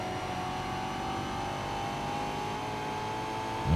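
A DTM race car in ToCA Race Driver 3 drones at high, sustained revs, its buzzing engine note holding steady and close before swelling louder right at the end.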